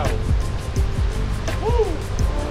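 Waterfall in Iceland, a steady broadband roar of falling water filling the scene, with a few brief tonal sweeps and bumps over it and no speech.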